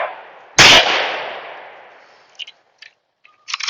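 A single sharp pistol shot at an outdoor shooting range cracks loudly and rings out in a long decaying echo, followed by a few faint clicks and handling sounds.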